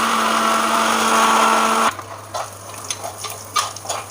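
A kitchen mixer grinder whirs loudly at a steady pitch while grinding grated coconut, then cuts off abruptly partway through, leaving quiet clinks and faint kitchen noises.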